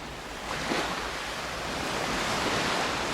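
Ocean waves washing onto Seven Mile Beach in the Cayman Islands, a steady soft surf hiss that swells slightly after the first half-second, mixed with light wind noise and no talking.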